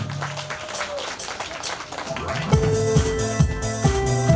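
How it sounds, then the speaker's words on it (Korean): Festival audience at an outdoor performance in Masan claps in a burst of applause, rising after a spoken introduction and mixing with loud music and voices nearby. "박수 한번 주시면 고맙겠습니다."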